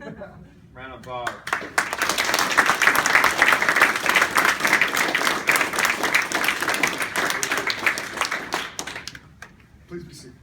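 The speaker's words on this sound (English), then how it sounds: "Round of applause." An audience claps at a military award ceremony at Fort Hood, a steady round of applause that builds quickly, holds for several seconds and tapers off, with a voice speaking briefly before it starts.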